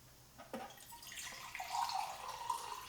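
A glass of water being poured: a short, quiet trickle of liquid that rises in pitch as the glass fills, heard close with no talk.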